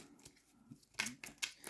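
Tarot-style playing card deck being shuffled by hand in bursts of riffling and flicking, fairly quiet and close, with short gaps between the runs.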